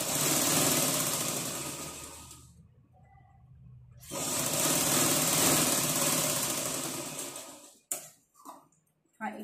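A sewing machine stitches blouse fabric in fast, steady bursts, a close mechanical whir that stops and restarts, ending in short clicks and brief runs while someone talks.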